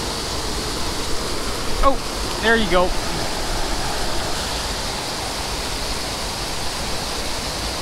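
A waterfall on a trout stream roars in a steady, broad white rush close by, while someone speaks briefly over it early on before the water continues alone.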